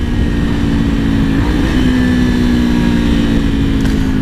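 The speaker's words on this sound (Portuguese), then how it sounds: "hoje vamos gravar aqui com esse escapamento Fuse Race para Kawasaki 400, serve na Z e na Ninja" Kawasaki 400 motorcycle, Z or Ninja, fitted with a Fuse Racing exhaust, held at a steady loud idle with a low rumbling drone, close by and alone, with no clear rev rise.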